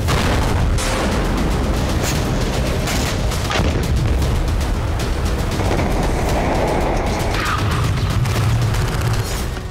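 Heavy Israeli bombardment of Gaza rumbles in a dense, continuous roar of distant blasts and booms, sustained and loud with no pauses.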